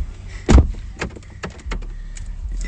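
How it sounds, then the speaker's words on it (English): A door opens or closes with one sharp thump early on, followed by fainter clicks and rattles, recorded close in a quiet room. "Oh, the door."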